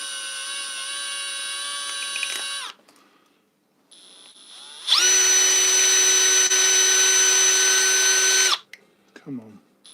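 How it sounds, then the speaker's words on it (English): An electric power drill whirs in two loud, close bursts while accessories such as Denali lights are fitted to a BMW R1250GSA motorcycle, a brief pause between the high steady whines and a short rattle at the end. "Drill."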